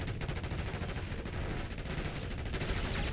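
Continuous rapid-fire gunshots in Call of Duty: Black Ops 6 during a Hardpoint match, a dense, unbroken rattle of shots at steady loudness throughout, with no talk.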